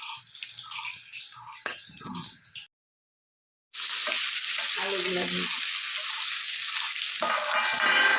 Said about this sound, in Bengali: মাছগুলোও সেমভাবে ভেজে নেব